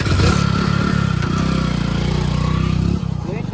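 A motorbike engine runs close by with a steady, throbbing mid-pitched rumble, and voices are heard over it.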